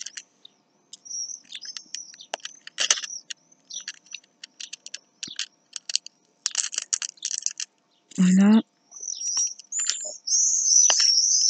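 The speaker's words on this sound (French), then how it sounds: "des fois qu'on n'entend pas les enfants, on arrive à entendre les oiseaux" Birds chirp and tweet outdoors in scattered bursts of high, quick notes that build to a denser song toward the end. A voice speaks briefly partway through.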